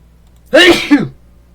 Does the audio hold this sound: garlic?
no